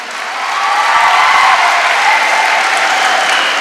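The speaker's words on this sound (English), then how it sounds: "Give a big round of applause." A college audience applauds at a pharmacy annual day celebration, steady dense clapping building quickly and sustained throughout, filling the hall without voices over it.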